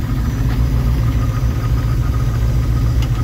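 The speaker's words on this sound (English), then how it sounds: "it fired right up and it's idling now" A V8 engine swapped into an S10 truck idles steadily under the open hood despite only 2 PSI of pressure, a loud, even low rumble that holds throughout with no speech.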